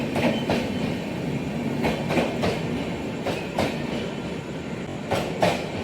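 A train rolls past a station platform on an Indian railway line, its wheels clattering in a steady clickety-clack with periodic sharper bursts as cars go by, moderately near and unbroken.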